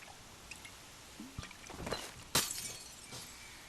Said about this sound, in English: Thanks for smashing my bottle.